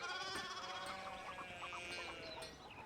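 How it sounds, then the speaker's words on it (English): Sheep bleat repeatedly in the medieval farm setting of the video game Pentiment, several wavering calls overlapping over a steady outdoor background with no talking. "But the sheep."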